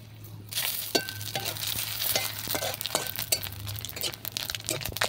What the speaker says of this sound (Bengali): সবজির জন্য মশলা ভাজে নেবো।